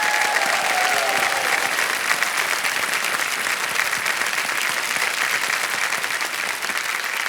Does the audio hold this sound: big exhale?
no